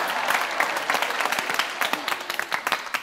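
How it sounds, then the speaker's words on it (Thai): Classmates applaud their teacher during a lesson, a steady patter of many hands clapping, fairly close and moderately loud, thinning into a few scattered claps near the end. "ปรบมือให้ครู"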